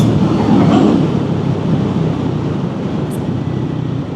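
Triumph Scrambler 400X motorcycle carrying a rider and pillion passenger in fourth gear at just under 30 mph, a steady loud engine drone mixed with road and wind rumble throughout, with no talking.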